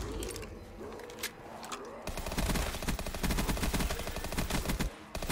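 A PPSh submachine gun fires in Black Ops 3 Zombies on a custom cabin-in-the-woods map, with rapid sustained automatic bursts that fill the second half, preceded by game effects and lighter shots.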